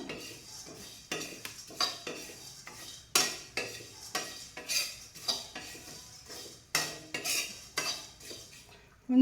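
Poha dry-roasting in a pan, stirred with a metal spatula in steady, rhythmic scraping strokes about once a second, close and distinct, with only a faint sizzle beneath.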